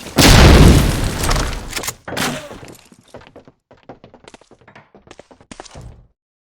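Two grenade blasts burst out in quick succession in a Medal of Honor: Allied Assault multiplayer match, the first a loud booming explosion and the second slightly weaker, followed by scattered debris thuds and distant gunfire.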